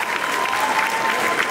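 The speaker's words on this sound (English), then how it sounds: "Let's give a round of applause for that." A room full of attendees at a forex company launch event breaks into steady, dense applause, close and continuous throughout with no talk over it.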